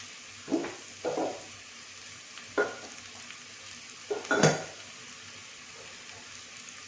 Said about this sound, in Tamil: நல்லா இதை வதக்கிடணும்